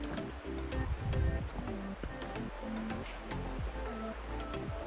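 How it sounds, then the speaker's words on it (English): Steady rushing water of a stream in a gorge flows continuously in the background, with footsteps on a forest trail, rustling, and faint voices mixed in. "Okay, I definitely hear water."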